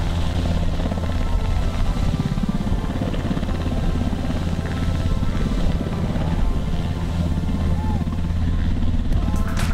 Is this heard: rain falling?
no